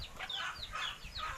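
Free-range farm chickens cluck and call in short repeated bursts on a rainy day, over a constant wash of background noise.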